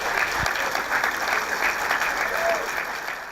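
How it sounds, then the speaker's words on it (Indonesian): Studio audience applause on an Indonesian talk show, sustained dense clapping at an even level throughout, tapering slightly at the end. "Tepuk tangan dulu dong,"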